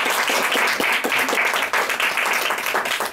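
Applause at a Toastbusters speaking-club meeting, a dense, steady patter of many hands clapping throughout, fairly close, with no one speaking over it.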